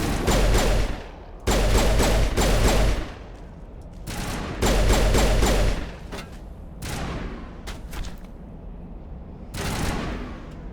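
Rapid bursts of Mass Effect gunfire crackle in repeated loud volleys, with sustained automatic fire broken by short lulls and a final burst near the end.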